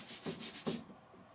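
Fingers rubbing across paper to blend a pencil drawing, a few soft, close, brushing strokes that trail off into quiet.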